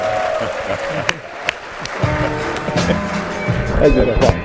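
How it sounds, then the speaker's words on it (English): A crowd applauds in a steady wash of clapping, with a few sharper claps standing out and a murmur of voices underneath. "Give him a round of applause."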